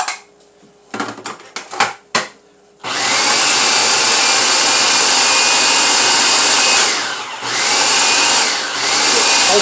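A food processor pulses a quinoa veggie burger mix, giving several short motor bursts followed by a long, loud, steady whir that dips briefly before running on.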